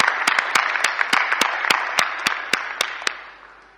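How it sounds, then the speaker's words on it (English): A graduation ceremony crowd applauds steadily with sharp individual claps standing out, the clapping gradually tapering off near the end. "Can we give them another round of applause"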